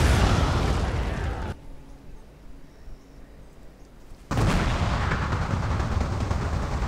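Cannon artillery fire in the samurai-era strategy game Shogun 2: Fall of the Samurai, heavy booming blasts rumbling loudly at the start and end, with a quieter stretch between.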